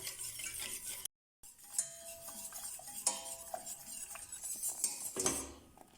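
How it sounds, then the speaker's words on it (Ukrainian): A utensil scrapes and stirs steadily around a pot of thickening orange cream over low heat, with soft clinks of metal and a faint bubbling sizzle underneath. "Ставимо на невеличкий вогонь, постійно помішуючи та доводимо до загустіння."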